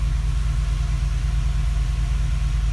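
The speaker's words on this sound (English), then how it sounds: "car's been running for a little while." The engine of a Chevrolet Tahoe idles steadily with a deep, constant low rumble close by and no other sounds.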